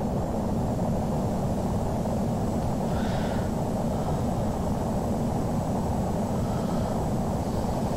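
An airplane engine in the Flight Simulator X game drones steadily and evenly throughout, a constant broadband roar with no talking.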